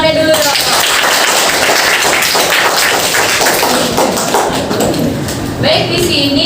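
Dense applause and clapping from a classroom audience of vocational high school students fills the room loudly and steadily, fading slightly near the end as a voice begins.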